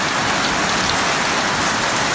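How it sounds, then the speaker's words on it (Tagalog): Heavy rain pours down steadily and close by, a dense, unbroken hiss of drops hitting surfaces with no voices. "Thank you Lord sa ulan."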